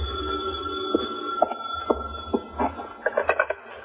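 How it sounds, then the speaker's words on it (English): An old telephone jangles in a hotel room in a radio drama, giving a series of short, bright ringing bursts that grow quicker toward the end, moderately close. "the phone starts jangling"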